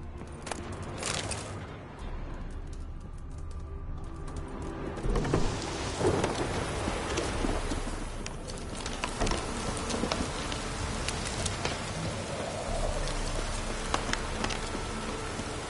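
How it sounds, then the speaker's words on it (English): A heavy rain downpour in The Witcher 3 video game hisses steadily across the whole span, with low thunder rumbling underneath and scattered drops pattering nearby, fairly faint overall. "This downpour's a bastard, it is."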